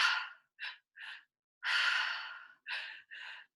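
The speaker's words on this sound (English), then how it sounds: "So it's breathing into belly, chest, exhale." Someone breathes deeply, drawing air into the belly and chest and then exhaling, in a series of close, breathy inhales and sighs with one longer, drawn-out exhale in the middle.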